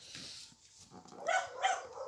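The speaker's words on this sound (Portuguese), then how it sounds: "Os cachorros enjoados," Dogs barking in the survival video game Westland Survival, two short bursts of barks in quick succession over a faint background, moderately close and fairly quiet.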